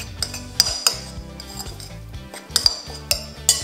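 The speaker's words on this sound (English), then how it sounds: "we're just gonna give this a nice stir just to combine all the flavors" Light clinks of a utensil against a bowl as gremolata sauce with olive oil is stirred, several sharp ringing taps scattered over a soft scraping background, close and moderately loud.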